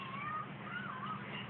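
A cat gives a drawn-out, wavering meow while watching a bird, the call rising and falling over a steady background hiss, with no talking.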